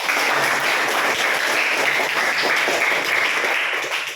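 A classroom of students clapping together, a dense, even round of applause sustained for about four seconds and then tapering off at the end.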